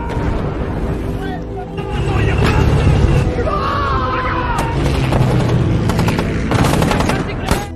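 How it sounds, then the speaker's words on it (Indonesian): Loud, dense gunfire and machine-gun bursts fill a WWII battle scene on Saipan between American and Japanese troops, with rapid volleys, booms and shouting layered over a continuous roar. "Dan terjadilah pertempuran yang sangat brutal antara pasukan Amerika dan pasukan Jepang."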